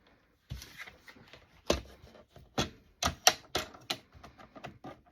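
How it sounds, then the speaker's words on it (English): A scoreboard being used to score a paper fold for a tall skinny Christmas card project: a series of sharp, distinct clicks and scrapes, roughly a dozen close taps with uneven spacing, fairly quiet and with no talking. "I'm going to get the scoreboard out and score that so I don't mess the fold up on it."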